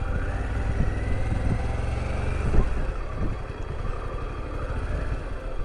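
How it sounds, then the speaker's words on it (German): A Harley-Davidson Pan America motorcycle fitted with a Screaming Eagle exhaust runs at a steady, loud engine drone. A brief louder swell comes midway, with no talk over it. "Ich glaube, hier hat man schon oder bereits den Screaming Eagle Auspuff montiert."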